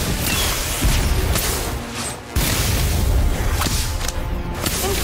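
Confringo blasting spell from the Harry Potter Magic Awaken video game: a loud, dense burst of booming, whooshing blast noise that runs nearly continuously, dips briefly and then surges back with fresh crackling impacts.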